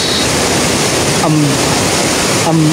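Mantayupan Falls in Cebu pours with a loud, constant broadband roar of falling water, close and unbroken, while brief voices cut through faintly in the background.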